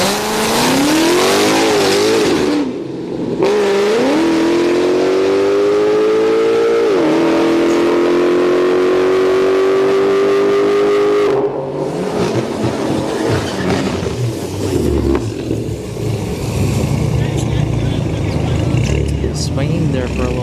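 Drag race cars launch at a street night drag event, among them a supercharged car and a V6 twin-turbo Kia Stinger GT, with loud rising engine whines climbing through gears over continuous roaring, while an announcer talks over the noise.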